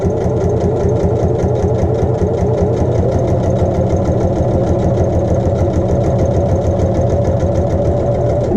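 A sewing machine sews a hem sample in one continuous, loud, rapid rhythmic whir that runs unbroken for the whole stretch, close to the listener.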